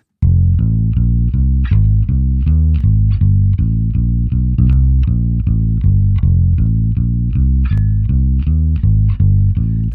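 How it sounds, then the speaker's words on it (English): Music runs through a Crane Song Phoenix II analog saturation plugin at its gold setting, giving a warm, harmonically rich tone; a steady rhythmic instrumental part plays loud and alone with regular note attacks. "in the gold setting, we get starting to get a bit of warmth, bit of richness, little bit of harmonic overtones"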